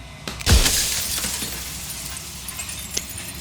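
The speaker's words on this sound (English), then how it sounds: "turning the mirror into jagged shards of broken glass" A mirror cracks and bursts into jagged glass shards in a horror video game: one sharp loud shattering crash, followed by a fading tinkle of falling pieces and a smaller crack later.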